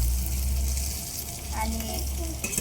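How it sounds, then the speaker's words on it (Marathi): Green chillies roast on an iron griddle over a wood-fired stove, giving a steady, close sizzling hiss throughout with faint crackles and no pauses. "आपण मिरची ना चुलीवरती केले लोखंडी तव्यामध्ये"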